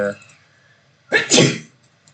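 One person sneezes once, close and fairly loud, with a sharp two-part burst after a brief moment of quiet; a bit of speech precedes it.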